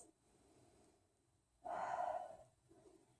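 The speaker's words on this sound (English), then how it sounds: "just 2 more deep breaths" Slow, deep breathing during a yoga child's pose in a calm practice session, one strong drawn breath swelling in the middle with softer breaths before and after, close and quiet, no talking.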